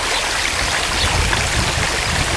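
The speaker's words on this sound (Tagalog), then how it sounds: "Tuloy-tuloy lang yung tubig yan" Water rushes out steadily during a swimming pool backwash, a dense, even gushing like a strong stream that runs without a break from start to finish.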